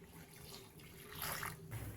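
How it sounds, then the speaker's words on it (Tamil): Water is poured into a pan holding chopped ash gourd for Kerala erissery, a short, faint, soft splashing stream that swells slightly toward the end. "தண்ணி 3/4 டம்ளர் ஊற்றிக்கலாம்."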